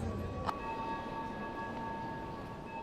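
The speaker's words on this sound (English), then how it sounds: "Parisians gathered as the Notre Dame bells tolled for the late pontiff." Notre Dame church bells tolling in Paris for the late pope, a faint sustained bell tone ringing steadily over distant ambient crowd noise, with a single sharp strike early on.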